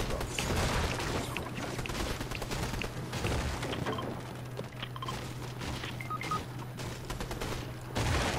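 Gunfire in a Fortnite match, a fairly quiet, busy stretch of scattered shots and impacts with a steady game hum underneath and no talk.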